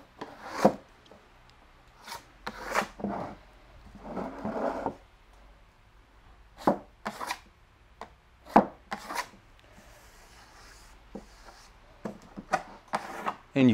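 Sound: trowel blade scraping a thin skim coat of Venetian plaster

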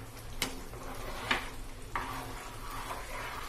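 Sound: stirring and roasting halwasan mixture in a pan

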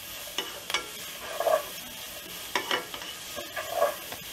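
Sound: paneer fried rice frying and stirring on high flame

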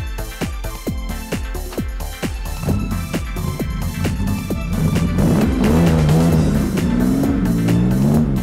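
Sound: sports car with Toyo tyres driving fast

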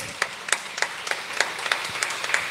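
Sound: congregation clapping in worship

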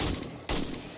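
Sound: gunshots in the video game 7 Days To Die

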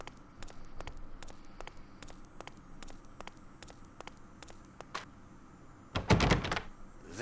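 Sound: locked door being tried in a video game

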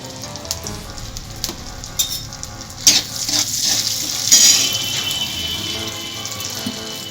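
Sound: potatoes frying in oil with salt and turmeric

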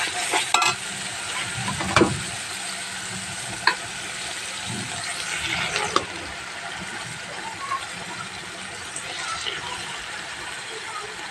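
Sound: duck meat added to spiced masala, sizzling and stirred

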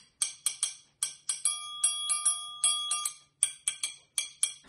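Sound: triangle being struck and played

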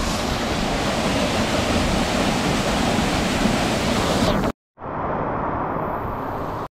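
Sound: waterfall

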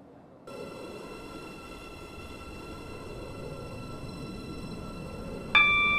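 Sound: train in a video game

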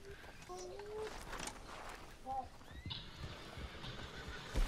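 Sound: horse whinnying in video game Red Dead Redemption 2

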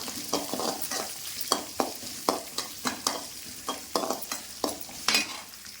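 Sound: onions sautéing in a pan

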